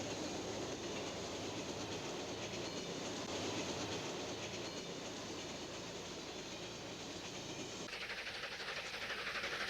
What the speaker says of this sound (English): running passenger trains east like this lovely Capital Limited